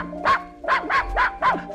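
Puppies on a 1970s children's story record yip and bark five times in a quick, uneven series, bright and close, with nobody talking over them.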